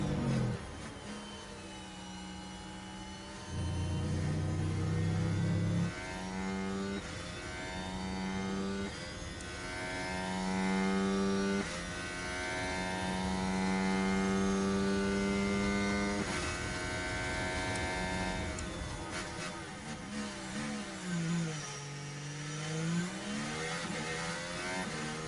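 F1 car engines from the video game F1 Manager 23 whine through gear changes, a high tonal scream rising and dropping in pitch as cars pass and shift, steady and continuous without talk.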